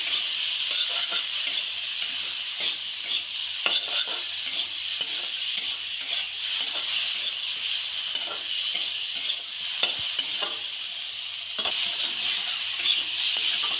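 Spiced mustard paste with turmeric and salt frying in a pan, a steady close sizzle with repeated soft stirring scrapes running throughout, no voices.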